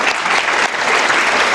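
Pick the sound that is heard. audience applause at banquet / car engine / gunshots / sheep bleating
audience applause at banquet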